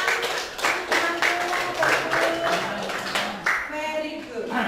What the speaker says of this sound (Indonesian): Tepuk tangan untuk temanku.